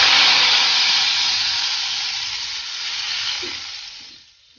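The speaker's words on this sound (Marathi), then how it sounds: "ही फोडणी आपण ह्याच्यावर घालून देऊया" Hot spiced tempering of oil with asafoetida and red chilli powder poured over cooked dal with fenugreek sizzles loudly in a broad, steady hiss that slowly fades and drops away near the end.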